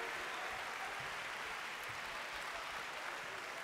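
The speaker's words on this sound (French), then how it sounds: "Je vous demande de les applaudir bien fort." A graduation ceremony crowd claps continuously, a soft, even wash of many hands heard from a distance with no voices over it.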